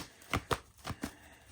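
A deck of oracle cards being shuffled, four short soft riffling bursts in quick succession, close but quiet, with no talk.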